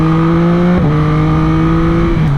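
A 1300cc Yamaha MT-09 motorcycle engine revs loud and close, holding steady harmonic tones with a brief throttle dip partway through, continuous and without talk.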